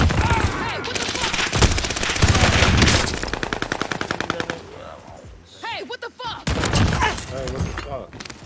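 Rapid bursts of light machine gun fire in the video game 24K Fortunes Keep, loud and close and mixed with other shots, then a pause and further clattering bursts, with voices calling out over the action.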